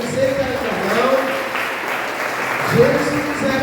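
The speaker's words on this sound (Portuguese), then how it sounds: "Pode aplaudir ao Senhor" A church congregation applauds, a dense, steady wash of clapping that swells slightly near the end, with voices and a sustained tone woven through it during a worship service.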